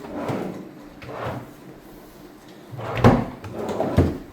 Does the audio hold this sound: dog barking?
no